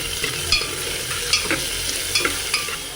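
A spoon stirs carrot and cucumber together in a pan while cooking khichdi for a one-year-old, giving steady soft scraping and light sizzling with several brief clinks against the pan, close and continuous, with no talk.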